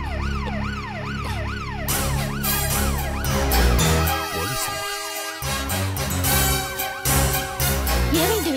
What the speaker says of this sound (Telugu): పోలీస్ జీప్ ఎందుకు వచ్చింది?